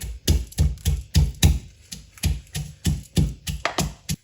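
Whole coriander seeds pounded by hand: about fifteen sharp, heavy thuds in a steady, fairly quick rhythm, close and loud with nothing else heard.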